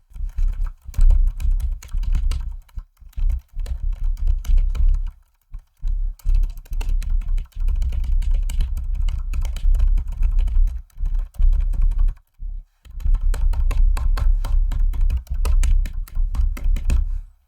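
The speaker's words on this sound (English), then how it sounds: "Let's just do a little typing test." Steady clattering of Logitech K780 keyboard keys typed in quick bursts, with a few short pauses, close and fairly loud, no talking.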